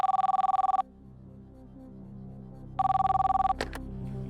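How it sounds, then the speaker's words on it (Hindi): A telephone rings twice with an electronic warbling trill, two bursts separated by a pause, placed as a call to a quiz show contestant, followed by a brief click as the line connects. "अनिल बोरदे जी को फोन लगाया जाए"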